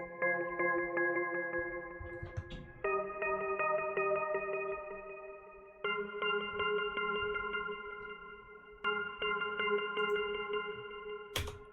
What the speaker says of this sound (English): So I first started off with this bell from my SERUM kit. It's called the Agony Bell.